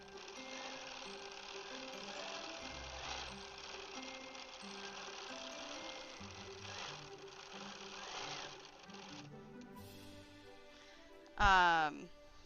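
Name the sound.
Bernina 790 Pro sewing machine quilting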